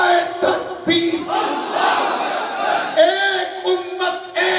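A large crowd at a religious gathering roars a chanted response to the Takbir slogan, loud rhythmic shouted bursts repeating in waves across the clip.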